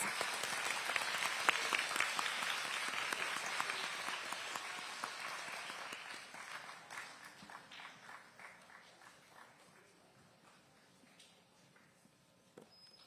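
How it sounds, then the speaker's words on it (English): An audience at a student math bee competition applauds after a round, loud dense clapping at first that thins out into scattered claps and fades toward silence. "Let's go ahead and give a round of applause."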